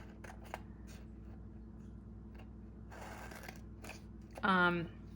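Scissors cut paper pages in half for a pocket Moleskine planner, giving a few short, faint snips and crisp paper rustles close by, followed at the end by a brief higher, squeaky-toned sound.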